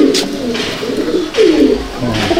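Malbai breed pigeons coo in a loft, with several soft, throaty, repeated coos close by, rising and falling in short bursts.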